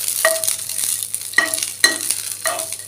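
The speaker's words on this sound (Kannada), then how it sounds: "ಅದಕ್ಕೆ 1 ಸ್ಪೂನ್ ಆಗೋಷ್ಟು ಎಣ್ಣೆ ಹಾಕೋತೀನಿ. ಇದನ್ನು ಚೆಂದಾಗಿ ಹುರ್ಕೊಂಡು" Raw tomato chutney ingredients fry in a spoonful of oil while being stirred, with four distinct scraping strokes over a low, steady sizzle, close up and without speech.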